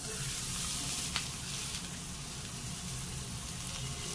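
Palak thalipeeth made from mixed flour frying on an oiled iron griddle, a steady close sizzle with a brief sharp crackle early on, continuous and moderately loud without speech.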